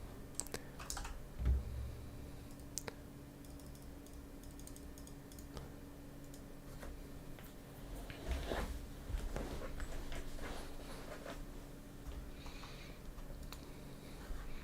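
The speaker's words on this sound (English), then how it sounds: "my work keyboard is super clicky mechanical keyboard" A clicky mechanical keyboard is typed on in quick irregular bursts of sharp close clicks, with short pauses and a faint background hum.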